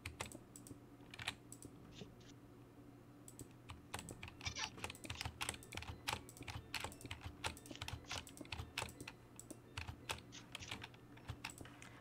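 Quick irregular clicks and riffles of playing cards being shuffled, faint and close, with soft rapid taps scattered through a quiet background.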